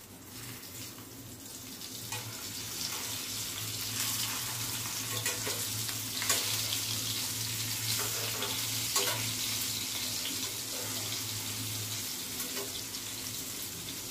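Malvani surmai fish fries in a pan with a steady sizzle that lasts throughout, moderately loud and close, with a low hum underneath and occasional faint clicks.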